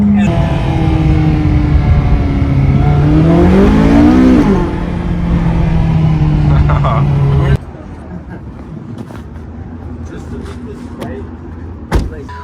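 A McLaren 570S engine revs up hard with a rising, sweeping roar that builds for several seconds, then cuts abruptly to quieter cabin rumble with a sharp knock near the end; a passenger speaks over the engine.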